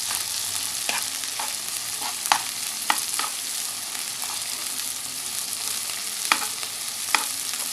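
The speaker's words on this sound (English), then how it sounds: "I'm going to break down the meat because we don't want huge chunks of minced meat in our samosa" Minced beef for samosa filling frying in a pan, a steady sizzle punctuated by repeated sharp scrapes and taps as a spatula breaks the meat into small pieces.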